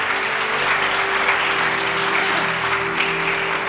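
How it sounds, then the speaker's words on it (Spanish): Loud, sustained applause fills a church service congregation, dense clapping holding steady throughout with a low tonal hum beneath it. "Le podrás dar un aplauso fuerte al Señor por eso"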